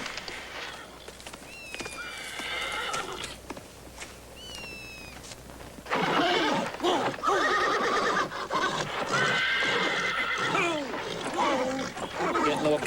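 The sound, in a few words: horse neighing and hooves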